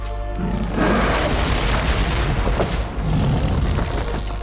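Explosion in the video game Dungeon Siege 3: deep booming blasts with a rumbling burst that swells and fades, followed by a second softer boom, loud and close, with no voices.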